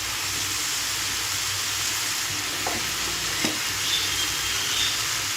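Oil brinjal kuzhambu, a Tamil eggplant curry in oil, bubbles and sizzles steadily in a pan, a continuous close hiss with a couple of soft pops and stirring knocks.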